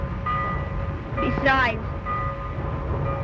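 A freight train arrives in a 1930s-era recording, a low continuous rumble with a brief rising whistle-like tone in the middle. A voice speaks a single word over the noise.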